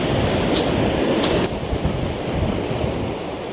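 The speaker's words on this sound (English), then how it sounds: "I could literally come down here, have a sit down and just watch the waves come in." Sea waves wash steadily onto the shore at Milford on Sea, a continuous broad roar with gusts of wind buffeting the microphone and no voices.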